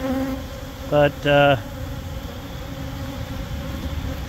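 Honey bees from an opened nuc hive give off a steady, low buzzing hum throughout, with a short spoken word breaking in near the middle.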